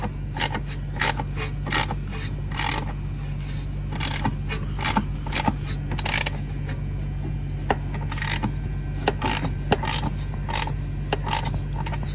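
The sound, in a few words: tightening a bolt on a car's parking brake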